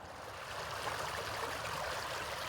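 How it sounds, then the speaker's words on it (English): A flashy stream flows steadily at a trail crossing on the Tuscarora Trail, a continuous soft rushing wash of water heard nearby without any voices. "This is a real flashy stream"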